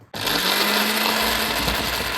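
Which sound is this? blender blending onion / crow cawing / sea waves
blender blending onion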